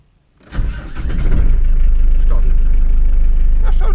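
A diesel vehicle engine cranks and catches after glow plug preheating, then settles into a steady, loud, close rumbling idle.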